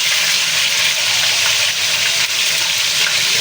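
Tofu fries in a pan until golden brown, giving a loud, steady, close sizzle of hot oil that holds unbroken throughout.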